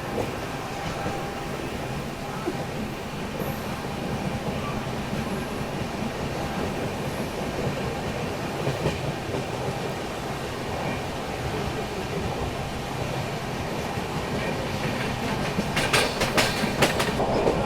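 Indian passenger train running steadily on tracks near Mumbai's Kurla area, a continuous loud rumble with rhythmic clickety-clack of wheels over rail joints, growing slightly busier toward the end.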